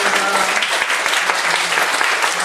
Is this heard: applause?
yes